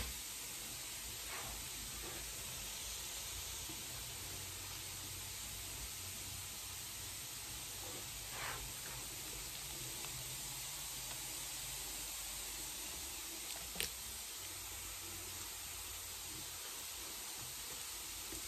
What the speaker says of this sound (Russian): Все кипит, бурлит.